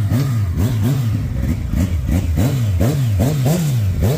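Motorcycle fresh from the repair shop revving hard outdoors, its engine note climbing and dropping in repeated rapid bursts, loud and close with no talk over it.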